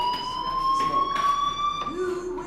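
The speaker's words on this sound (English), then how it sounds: "Hey, do you hear that fire alarm?" Fire alarm ringing in the video game Life Is Strange: a continuous high, steady electronic tone sounding loudly, with a voice speaking over it.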